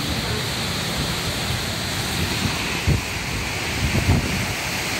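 Strong windstorm gusts in Florianópolis, a steady broadband roar of wind buffeting the microphone, with a couple of brief harder thumps near the end and no voices.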